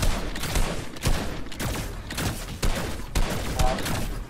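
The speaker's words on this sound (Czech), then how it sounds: "Proč se tady střílí?" Gunfire in a Fortnite match: repeated bursts of rapid shots crack out at short intervals, loud and close, with brief gaps between volleys.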